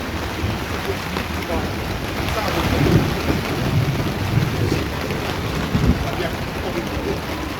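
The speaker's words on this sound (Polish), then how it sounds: "W ogóle jest u nas burza" Steady heavy rain pours down with a low rumble of thunder rolling underneath, a continuous dense wash of sound.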